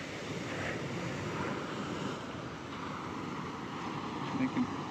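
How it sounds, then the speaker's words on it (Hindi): Strong sea waves at Puducherry beach rush and wash continuously in a steady surf roar, mixed with wind buffeting the microphone and a couple of brief bumps near the end. "लहरें काफ़ी तेज है"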